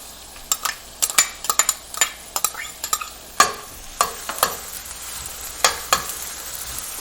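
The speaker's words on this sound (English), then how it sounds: "when we start to get a little bit of a sizzle out of it, we're going to go ahead and add our onion" Onion and celery cooking in a pan with a quiet sizzle, overlaid by frequent sharp clicks and scrapes of a utensil stirring, close and irregular, no voices.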